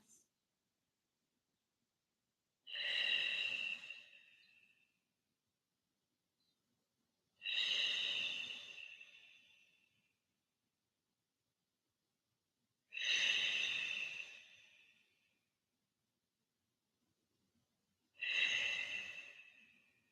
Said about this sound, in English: Long, deep breaths.